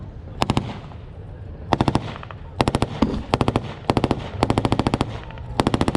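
Machine gun fire at a tank weekend reenactment at a military museum, loud sharp bursts of rapid shots in short volleys with brief pauses between them.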